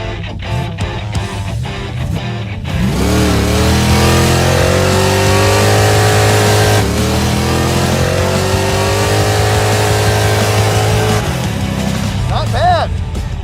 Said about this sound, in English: Burnouts for distance?